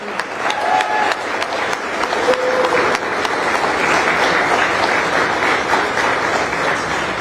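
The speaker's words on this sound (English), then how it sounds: "let's just have one big round of applause together for Amarillo City Music" A round of applause from the audience at a music certification ceremony for Amarillo, scattered claps building into steady, sustained clapping that continues to the end.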